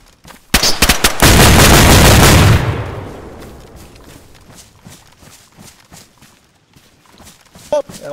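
Loud burst of automatic gunfire in DayZ, fired through walls during a forest base raid, a dense rapid volley lasting about two seconds then trailing off into quieter movement and faint shuffling.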